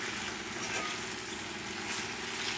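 Sweet and sour chicken sauce with a tablespoon of brown sugar cooking in a pan, a faint continuous sizzle and bubbling hiss, steady throughout.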